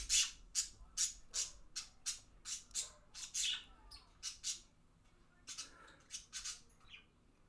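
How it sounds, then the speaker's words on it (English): Pet birds indoors give repeated bright chirps and harsh squawks in an uneven run of short calls, fairly close and clear, with no voices. "Boy, these birds."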